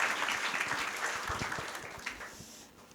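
Applause from an audience at a public-speaking event at Vishwakarma Academy: dense clapping that stays steady through most of the moment, then thins and fades near the end, with no voices over it.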